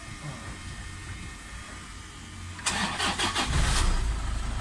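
A Toyota Innova engine is cranked and catches, a short starter whir followed by the engine firing up into a rumbling idle, close and fairly loud after a quiet stretch.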